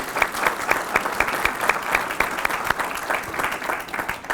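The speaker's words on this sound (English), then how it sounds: "let's give another round of applause to General Peavy." Audience applause at a tribute event for a Tuskegee Airman, a steady round of clapping from a moderate crowd, even and sustained for several seconds.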